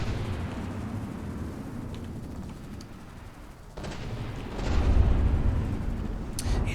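Rumbling battleship cannon fire during a video game tournament, with heavy booms and a continuous low roar that swells louder near the end, with no talking.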